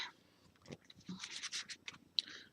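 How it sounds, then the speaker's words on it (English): Tarot cards shuffled by hand give a quiet, close run of soft scratchy riffles and brushes, irregular bursts rising and falling over a couple of seconds in near silence. "I'm being told this is the last shuffle"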